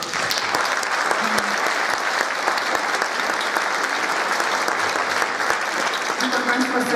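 Audience applause at a choir's Christmas concert in Tczew, a steady, full crowd of clapping hands that continues throughout, with a voice faintly speaking underneath.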